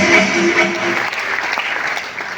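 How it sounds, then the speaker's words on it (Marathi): Loud, dense applause from a seated audience at a motivational success-story event, many hands clapping steadily and fading slightly toward the end. "एकदा रवी सरांसाठी पण जोरदार टाळ्या झाल्या पाहिजे"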